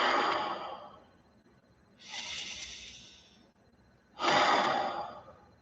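Slow, deep breaths are drawn in and pushed out audibly, three long airy swells close to the listener with quiet gaps between.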